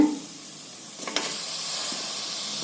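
Paneer and peas fry in hot oil with coriander leaves, giving a soft, steady sizzle and hiss close by. A couple of faint stirring knocks land partway through, and no one speaks.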